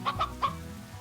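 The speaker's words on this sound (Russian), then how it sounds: "Нет, курочка!" A chicken in the video game Slime Rancher gives three quick, close clucks in the first half second, followed by quiet.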